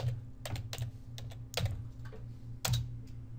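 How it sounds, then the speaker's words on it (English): Computer keyboard keys are tapped in a short irregular burst while someone types a name into a property search field, with quick clicks clustered in small groups, close and fairly quiet. "If I type in Carson,"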